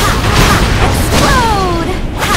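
A loud video game explosion: a dense, rumbling boom filling the whole clip with sustained low roar, a falling whistle-like tone sweeping down midway, and faint background voices underneath.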